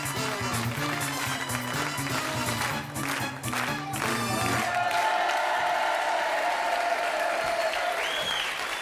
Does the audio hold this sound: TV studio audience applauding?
yes